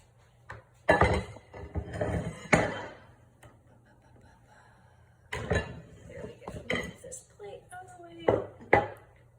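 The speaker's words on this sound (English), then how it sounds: "I am ready to take the pizzas out of the oven" Naan pizzas are pulled from a home oven, with sharp metallic clanks and knocks of trays and pans in separate bursts over a quiet background.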